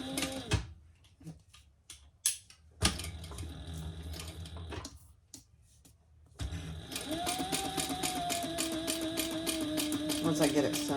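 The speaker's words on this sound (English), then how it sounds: "I'm going to go ahead and sew those together." A sewing machine stitches sling bag pieces together, starting with a few short bursts and pauses, then settling into a steady, close, continuous whirring run; a voice talks briefly near the start.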